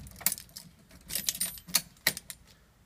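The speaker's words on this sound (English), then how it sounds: "But we'll just add the key to the ignition." Keys jangle in short metallic bursts as a key goes into the ignition of a Datsun 240Z, several quick clinks spread across a few seconds, close and fairly quiet.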